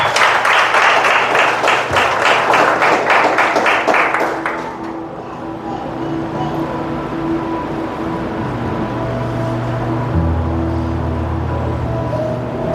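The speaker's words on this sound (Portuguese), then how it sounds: "Agora aplauda o Senhor nessa noite bem forte." An evening church service congregation applauds loudly and rhythmically for about five seconds, then the clapping stops abruptly, leaving a low room hum with sustained tones underneath.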